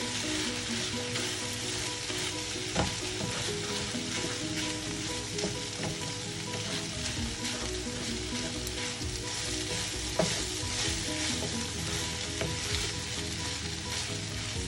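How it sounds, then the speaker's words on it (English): Ground beef fries in a pan with a loud, continuous sizzle and crackle, while a utensil stirs and scrapes through the meat close up for the whole stretch. "Just add my grind beef in here and then mix it up."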